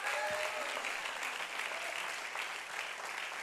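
A church congregation claps and applauds continuously, a dense, steady wash of hand claps heard at a moderate distance throughout.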